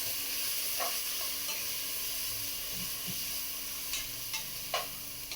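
Ginger garlic paste fries in a pan on low heat with a steady close sizzle, while a spoon scrapes and stirs it in a few sharp strokes near the end; no one speaks.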